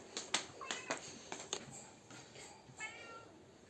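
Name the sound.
cat meowing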